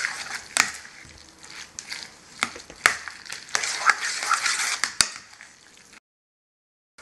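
Pot sticker filling seasoned with fish sauce being mixed by hand in a bowl, close wet squelching and soft clacks in irregular bursts, ending in abrupt silence.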